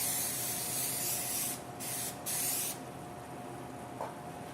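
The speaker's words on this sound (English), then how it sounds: "We're going to take this vegetable spray and spray all the inside." Vegetable cooking spray misted into the inside of 8x8 baking pans, heard as two close, steady aerosol hisses of about a second and half a second, then quiet room tone.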